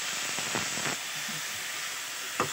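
Vegetables seasoned with Kashmiri chili powder and salt fry in a covered pan over a low gas flame, giving a steady, loud hiss with a couple of faint clinks.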